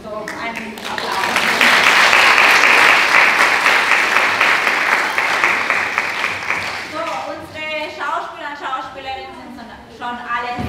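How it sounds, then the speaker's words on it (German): A school theatre premiere audience of children and parents claps in a loud, sustained round of applause that swells then fades, giving way to a speaker's voice near the end. "So, einen Applaus."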